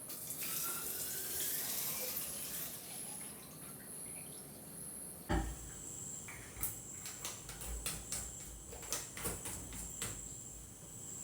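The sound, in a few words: filling water bottles from a kitchen tap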